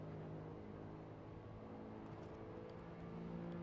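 BMW M3 engine in the Assetto Corsa racing game on the Nordschleife, a steady droning rumble with a whirring tone that holds throughout as the car shifts down to fourth gear, with no one speaking.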